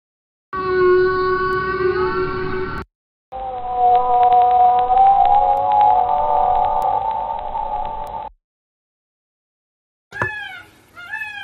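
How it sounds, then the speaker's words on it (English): A whale gives long tonal moans in two separate drawn-out calls with harmonic layers, heard alone and fairly loud, followed by a short burst of quick rising chirps after a pause. "The whale made this sound."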